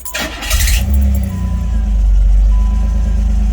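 A Pontiac Fiero with a stalling problem cranks briefly and fires up, then settles into a loud, steady idle close by, with a light jingle of keys at the start.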